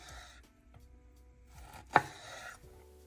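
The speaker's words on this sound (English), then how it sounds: "Cut it lengthwise and then into cubes." A knife cuts raw tuna into cubes on a board, a few soft, quiet strokes followed by one sharper, louder chop, with no talking.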